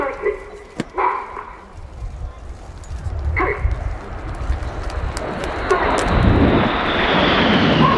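Royal Air Force Red Arrows jets at a flying display at the Royal International Air Tattoo, a broad engine roar building from moderate to loud and sustained over the second half, with a commentator's voice over the public address early on.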